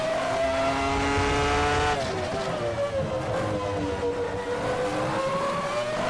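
A Ferrari F310 Formula One car with a 3-liter V10 engine howls in Assetto Corsa, its high-pitched engine note dropping and then climbing again through gear changes, loud and continuous, with a voice talking over it.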